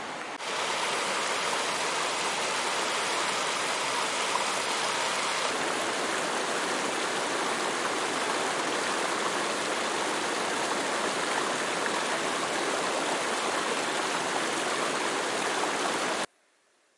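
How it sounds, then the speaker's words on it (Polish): A fast-flowing, shallow mountain stream on the Pacific Crest Trail near the John Muir Trail rushes steadily in a loud, dense, unbroken wash of water, close by, with no voices, before cutting off abruptly. "Tutaj z kolei szybki nurt drugiego strumienia, ale płytko."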